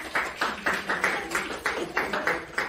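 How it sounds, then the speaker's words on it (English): Short burst of applause from the audience at an African American and Hispanic American unity event, a handful of fairly close, uneven claps in quick rhythm for under three seconds. "A round of applause for her"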